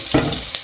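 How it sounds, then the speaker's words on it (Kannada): Onions frying in oil in a pan give a short burst of close, crackling sizzle, with a quick stirring scrape in the middle of the brief moment. "ಈರುಳ್ಳಿ ಸ್ವಲ್ಪ ಫ್ರೈ ಮಾಡ್ಕೋಬೇಕು."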